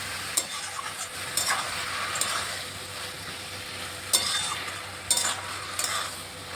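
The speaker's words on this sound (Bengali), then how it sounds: "ভালোভাবে মশলা খাতে ফুলগুলোকে কষিয়ে নিচ্ছি" Bakful flowers being sautéed with spices in a pan, an ongoing sizzle punctuated by several sharp scraping spatula strokes against the pan, no speech.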